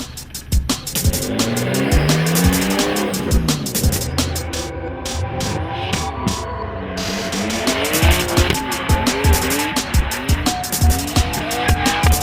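A BMW M3 drifts sideways at a Speedrift Detroit event, its engine roaring loud and close while the tires squeal continuously, the pitch wavering and sliding as the car swings through the drift.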